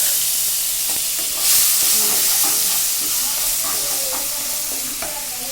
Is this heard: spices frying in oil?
yes